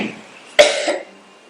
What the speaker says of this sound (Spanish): Hacemos una tos primero.